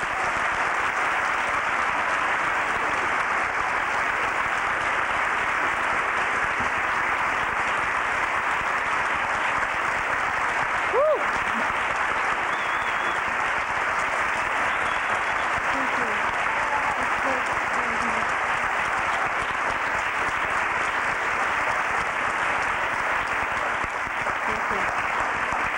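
Sustained loud applause from a large audience welcoming Barbra Streisand, dense, even clapping holding steady for the whole stretch.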